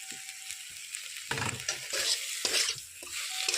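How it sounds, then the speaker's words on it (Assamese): Dried fish frying and being stirred in a pan with chili powder for an Assamese dish: a loud, continuous sizzle with scraping stirring strokes throughout, heard alone without talk. "এতিয়া মই দিম শুকান মাছখিনি ভাজি"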